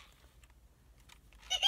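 Squawky electronic chirps and warbles from a Furby toy bought at a yard sale, a few brief bursts growing louder near the end over a quiet room.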